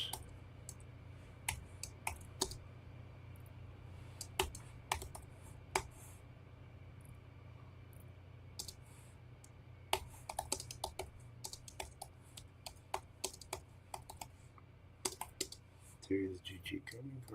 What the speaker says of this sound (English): Sure, I'm typing this in correctly.